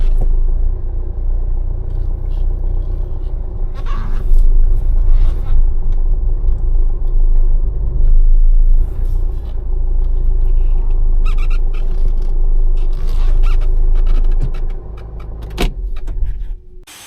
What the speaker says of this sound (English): They're cleaning the car.